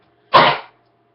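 A dog gives a single short, sharp sneeze, close by and loud, in a burst of about half a second against an otherwise quiet background.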